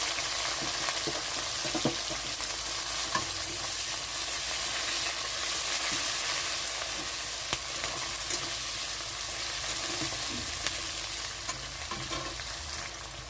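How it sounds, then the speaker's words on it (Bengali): Chopped onion and green chili fry in oil in a pan, giving a steady, even sizzle that runs unbroken throughout, with no voices. "এখানে পেঁয়াজ আর লঙ্কাটা একটু হালকা ভাজা হয়েছে।"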